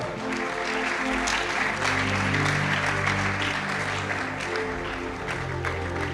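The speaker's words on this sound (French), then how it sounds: "Acclame mieux que ça." A church congregation applauds steadily through a sermon, the clapping dense and sustained with the crowd close by. Music plays underneath throughout.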